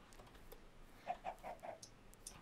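Chickens in Minecraft give four short, faint clucks in a quick, even run near the middle, over a soft background hiss, with no talking.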